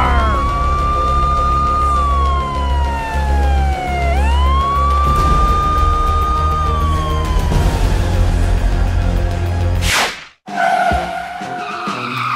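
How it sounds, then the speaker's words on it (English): Police car siren in a cartoon kids' street scene, a loud wailing tone sweeping up and down continuously, with a brief crash or whoosh near the end followed by more noise. "police car!"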